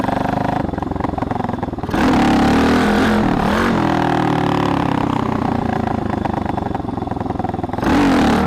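A Tao Tao DBX1 140cc pit bike engine revs hard and loud during a wheelie, its rough engine note rising and falling across several throttle bursts, recorded close from a chest-mounted camera with no talking.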